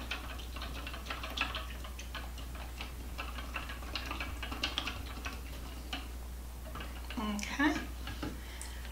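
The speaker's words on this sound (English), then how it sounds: "So I'm gonna stir this up really good." Cornstarch is stirred into a potato and hamburger soup, with a spoon clicking and scraping against the pot in quick, irregular taps close by; a brief voice cuts in near the end.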